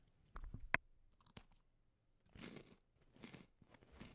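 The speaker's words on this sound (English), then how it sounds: "You can hear that crunch, the ASMR crunch" Crisp crunches of a snack being bitten and chewed close to the mic, a sharp bite followed by irregular bursts of crunching, with quiet gaps between.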